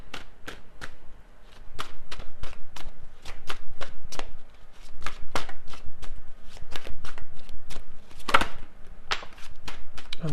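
Tarot cards being shuffled close up, a steady run of crisp riffling slaps and flutters with brief pauses and one sharper snap near the end, no voice.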